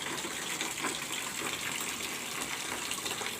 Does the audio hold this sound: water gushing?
yes